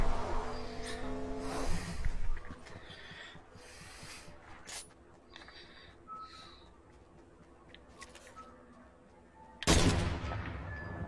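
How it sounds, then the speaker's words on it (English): Gunshots in the video game Fortnite crack out as scattered sharp bursts over a steady in-game background, with one loud shot near the end. "Oh, gunshots? I hear them."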